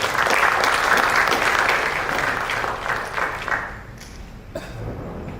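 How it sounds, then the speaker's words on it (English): An audience at an international power and control systems conference applauds its esteemed guests with a dense, full burst of clapping that thins out and fades after about three and a half seconds. "Let us give a big round of applause to all our esteemed guests."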